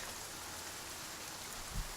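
Steady rain from the video game The Flame in the Flood, a broad even hiss of drops falling on surfaces with a soft low thump near the end, no voices.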